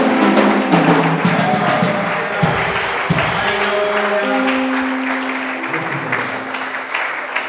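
A church congregation claps and cheers for the Lord during a prophetic prayer service, a loud sustained burst of applause mixed with crowd voices and sung or shouted tones, tapering off toward the end.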